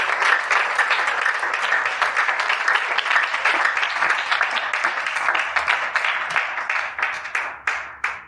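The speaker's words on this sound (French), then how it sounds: "Est-ce que tu peux donner des acclamations vraiment à ton Dieu ce matin?" A church congregation claps and cheers steadily, a dense, loud wave of applause filling the hall for several seconds before thinning out toward the end.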